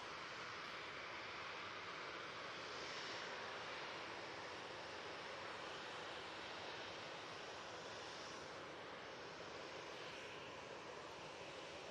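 EasyJet Airbus A320-200 jet departing from Manchester Airport, a broad steady jet roar heard from a distance, faint and unchanging throughout with no voices.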